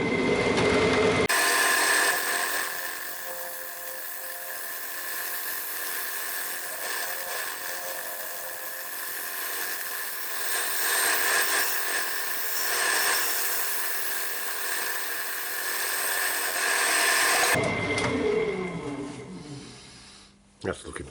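Sanding a wooden bowl on a lathe in woodturning, a loud, steady abrasive whirring hiss that runs continuously for most of the clip and then drops off, with no talk over it.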